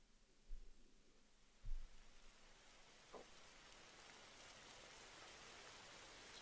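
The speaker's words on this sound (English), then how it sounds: "Typical. It had to rain," Steady rain falls outdoors as a dense, even hiss that grows slightly fuller over the clip, with a few soft thumps and a brief faint knock early on.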